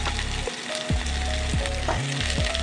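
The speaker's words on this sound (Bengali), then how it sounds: "এরপর দিয়ে দেবো ছোট ছোট করে কাটা আলু কুচি। এটাও একসাথে সবজির সাথেই ভেজে নেবো" Chopped potato pieces fry together with mixed vegetables in a pan, giving a steady, close sizzle broken by a few scraping stirs and soft clanks, with no talking.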